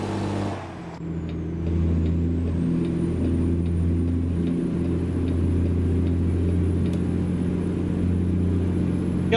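A Kenworth W900 with a Cummins ISX engine in American Truck Simulator drones with a steady, loud low diesel rumble, briefly dipping at the start before settling into a constant idle-to-cruise hum, with no voices.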